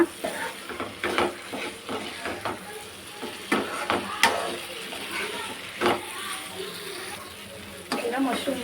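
Masala being stirred and mixed in a frying pan while making a children's tiffin dish, with soft sizzling and a series of scraping, clattering strokes from the utensil, close by and with no talking.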